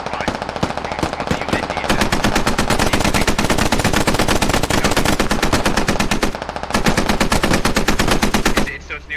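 Rapid automatic gunfire in the SquadOps video game, a dense stream of sharp shots that keeps up with only brief pauses, loud and close.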